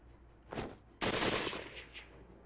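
Gunshots in the Hakuoki video game, two sharp blasts about half a second apart, the second louder with a long echoing decay.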